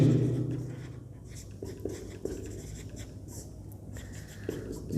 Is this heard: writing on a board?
yes